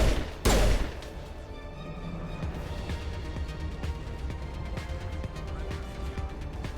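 Pistol fire in the sci-fi shooter Mass Effect, with one sharp loud shot at the start followed by a steady bed of scattered distant shots and rumbling battle noise.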